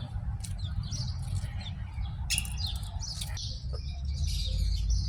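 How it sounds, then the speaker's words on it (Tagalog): Small birds chirp in a private garden in Dubai, with scattered short tweets and a few brighter calls over a constant low background rumble, moderately distant. "Tignan yung ibon niya, oh."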